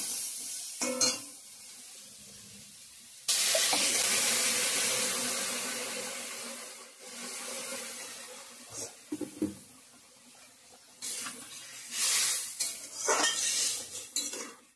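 Clinking of utensils against a pan, then a sudden burst of loud sizzling and hissing as water is poured onto frying spiced vegetables and potatoes, fading, with scraping and stirring sounds after.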